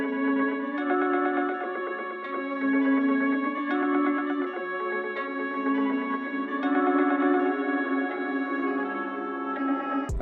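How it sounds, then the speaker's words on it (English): A sustained electric guitar chord line soaked in echoing delay and wide reverb from a Microcosm effect pedal, notes smearing into a continuous shimmering wash that ends abruptly. "but space is just delay and reverb."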